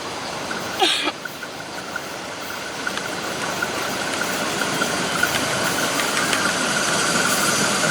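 A steady diesel railcar engine drones and rumbles at a constant level, with a faint brief clank early on.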